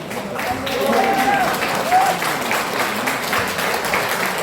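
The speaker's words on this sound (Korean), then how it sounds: "다시 한번 박수 감사합니다" Sustained applause from a crowd at a political rally fills the clip, steady and fairly loud, with a voice speaking over it.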